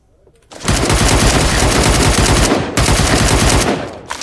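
Loud, sustained automatic gunfire in rapid bursts from the video game Badlanders, with a brief pause partway through before firing resumes.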